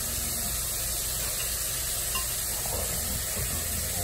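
Steady sizzling of minced turkey frying in hot oil, a continuous crackling hiss with faint scraping stirs underneath, close by and without speech.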